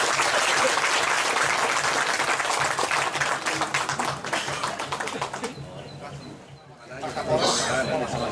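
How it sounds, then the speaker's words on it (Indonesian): Enthusiastic hand clapping from a large gathering at a church ceremony, loud and sustained for several seconds before thinning out, with scattered voices and chatter as it fades. "sekali lagi kita tepuk tangan yang meriah"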